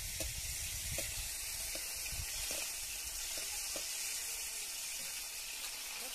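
Garlic, green chilli and pigeon pea grains fry together in hot oil, giving a steady, soft sizzling hiss with faint scattered clicks throughout and no voices.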